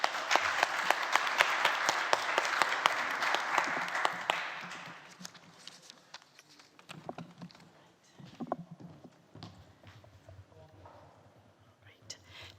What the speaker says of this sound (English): Can I have another round of applause for all the three presenters?